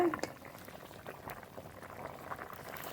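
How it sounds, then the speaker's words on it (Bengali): Curry broth for a glass carp fish and bottle gourd dish boils in a pot, giving a steady, continuous bubbling at moderate volume with no break. "ঝোল খুব ভালো জাল হয়ে গেছে"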